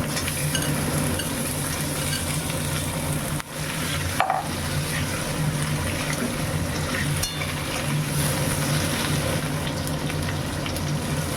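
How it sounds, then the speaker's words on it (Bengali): Lightly steamed raw banana fries with ginger and whole-spice tempering in a pan, giving a steady close sizzle under repeated stirring and scraping, with one brief utensil knock and no speech. "সেটা আমি দিয়ে আমি একসাথে আদার সাথে আমি ভেজে নিই"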